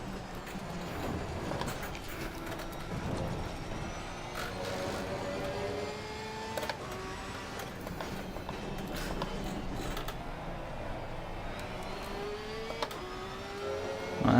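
GT race cars accelerating off the start at Imola in Assetto Corsa Competizione, a dense blend of engines revving and shifting under a steady roar, with upward-sweeping engine tones throughout.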